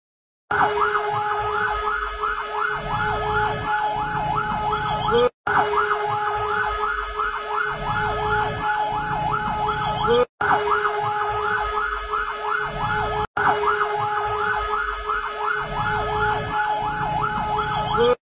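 A fire engine siren wails loudly and continuously in a rapid, warbling cycle as the truck passes on the road, with brief cuts in the sound and no talking.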